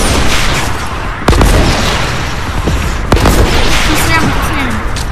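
Loud, dense video game combat, with sharp gunshots and a couple of heavy bangs punching through constant battle noise, and no talking.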